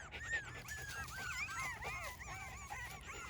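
Young schnoodle puppies outdoors for the first time whimper and yip in thin, high, wavering cries, several voices overlapping steadily at close range.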